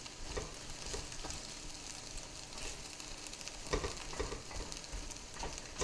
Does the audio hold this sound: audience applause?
no